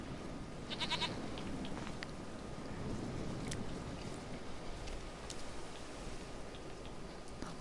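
A goat bleats faintly in The Witcher 3: Wild Hunt, a few soft calls sitting low under a quiet, steady ambient hiss.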